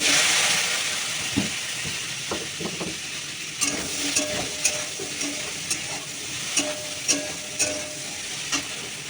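Okra dropped into hot oil with turmeric hisses loudly at first, then settles into a steady frying sizzle broken by regular clinks and scrapes of stirring, close up.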